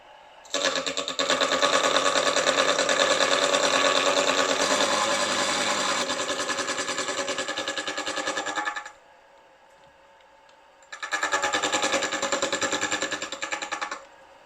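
Metal gear-cutting machine working the teeth of a 29-tooth gear for a 2-inch Fowler Showman's traction engine, a steady loud rattling chatter for about eight seconds, a pause, then a second shorter run of the same cutting.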